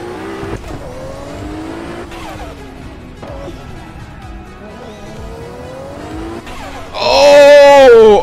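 A JDM street car in the racing game Assetto Corsa drones along with a steady engine note, then breaks into a loud, wavering tire squeal as it drifts and oversteers near the end.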